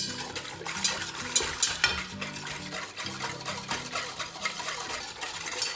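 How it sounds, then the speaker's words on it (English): A whisk scrapes and clinks briskly against a bowl while mixing salt, water and yeast, a close, continuous rhythmic rattle with no talking. "I'm gonna whisk it a little bit"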